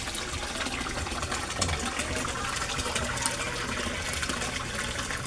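Submersible aquarium pump running in a koi pond, churning out bubbles and water in a steady, loud, continuous gush that stays constant throughout.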